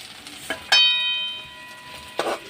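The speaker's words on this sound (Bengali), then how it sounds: "এই মাছগুলো আমারও ভাজা হয়ে গেছে। এবার আমি এগুলোকেও আস্তে আস্তে করে তুলে নিচ্ছি।" Pieces of lote (Bombay duck) fish frying in hot oil, with a soft steady sizzle, two brief clinks near the start, and another stir or lift near the end.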